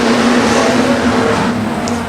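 Street stock race cars at the Australian Street Stock title at Redline Raceway speedway accelerate away together from the start, a loud, steady roar of engines droning continuously with no pauses.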